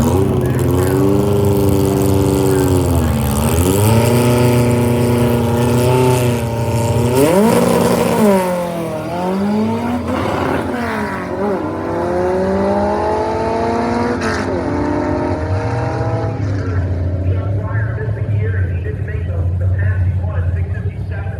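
Engine of a small car on a road trip, revving hard and rising in pitch through repeated gear changes before fading into a lower steady drone, loud and close, with a voice talking over it at times.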